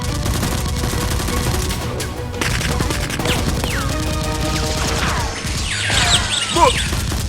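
Toy Nerf blasters fire in a noisy indoor Nerf war, with dense overlapping pops, mechanical rattles and clatter running throughout, loud and close, while shrill whistling and sliding tones rise toward the end.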